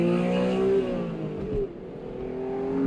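An Acura NSX engine revs while driving, heard from inside the cabin as a loud, smooth rising and falling drone with a brief dip as the revs shift, continuous and without talk.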